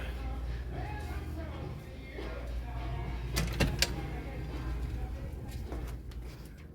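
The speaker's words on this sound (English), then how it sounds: "We're gonna walk out this side door over here" A side door of a building at a filming location for the 1981 horror film Final Exam opens midway with a sharp clack and brief rattle, over steady low hum and faint voices.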